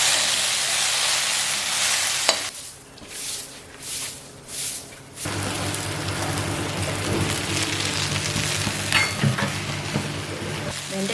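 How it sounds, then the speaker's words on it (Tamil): Okra stir-frying in a pan, a loud continuous sizzle with stirring scrapes that drops to a few softer pulses for a few seconds before the full sizzle returns. "வெண்டைக்காயோட வளவளப்பெல்லாம் எதுவுமே இல்லாமல் இருக்குது பாருங்கள் இன்னமும் நல்லா வதங்கணும்"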